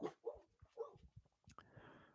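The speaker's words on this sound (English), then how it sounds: "Their dog's barking in the bedroom." Dogs barking indoors in a bedroom, a few short, faint barks and whimpers heard from another room, with a muffled low rustle at the end.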